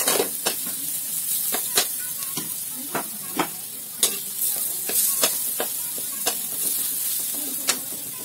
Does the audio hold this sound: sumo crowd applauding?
no